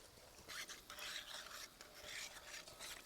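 A spoon stirs sweet potato gulab jamun frying in oil in a pan, giving soft, faint scraping and sizzling strokes repeated at an even pace, close by and quiet.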